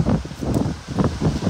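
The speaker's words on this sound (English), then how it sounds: "This is kind of windy" Gusty wind blowing outdoors, loud rumbling buffets against the microphone rising and falling in waves, with a faint rustle over the top.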